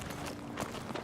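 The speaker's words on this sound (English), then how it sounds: "I heard footsteps" Footsteps in the shooter video game Battlefield 6: a few soft, quick steps at a running pace, fairly faint against low game ambience.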